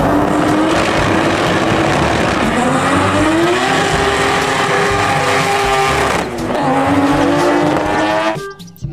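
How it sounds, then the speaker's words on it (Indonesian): A toy race car plays a loud racing sound effect: a continuous roaring engine that sweeps up and down in pitch, with tire-squeal tones, cutting off abruptly into a few clicks at the end. "Di sini ada mobil balap."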